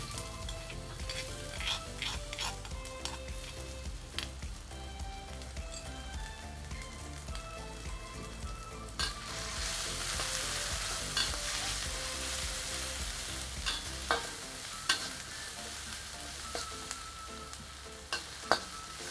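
Onions and cinnamon bark frying in oil in a curry pot, a steady crackling sizzle punctuated by sharp scrapes and clinks of stirring, growing into a brighter, hissing burst midway.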